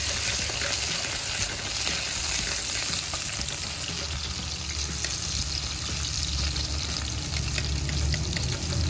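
Onion frying in a pot for iguana curry sizzles in a loud, steady crackle that holds close and continuous throughout, with faint stirring and no talking.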